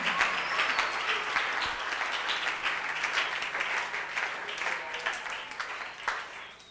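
A church congregation applauding to acclaim the Lord, a dense, steady burst of many hands clapping that fills the room and slowly tapers off.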